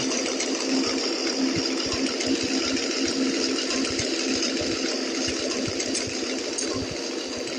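Motorcycle engine running in the Indian Bike Driving 3D video game, a steady buzzing drone with a rapid mechanical rattle that holds evenly at a constant loud level throughout, with no voices.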